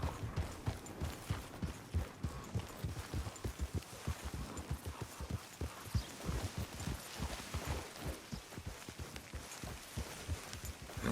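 Horses gallop in the video game Red Dead Redemption 2, a dense, steady run of thudding hoofbeats lasting the whole stretch, fairly loud and close, with no talk.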